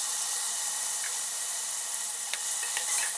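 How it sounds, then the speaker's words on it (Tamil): Onion and green chili sautéing in a spoonful of oil inside a pressure cooker, a steady soft sizzling hiss with a few faint clicks of stirring near the end. "நான் இன்னொரு குக்கரில் ஒரு ஸ்பூன் எண்ணெய் விட்டு வெங்காயம் பச்சை மிளகா இதை போட்டு லேசாக வதக்கிக்கிறேன்"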